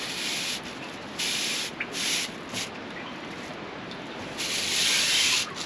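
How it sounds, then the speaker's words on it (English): A small brush scrubs up and down inside a tube during sewer service work, giving steady close rubbing and scraping with a few louder bursts of strokes. "we can take this smaller brush here, Yeah. run it up and down each tube"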